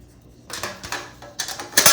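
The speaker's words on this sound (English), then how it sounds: "This is a spring pan." A metal springform cheesecake pan clinks and rattles close up, several sharp clanks in quick succession.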